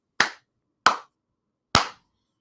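A person claps their hands three times, each clap crisp, close and loud with a quick decay, separated by short silent gaps.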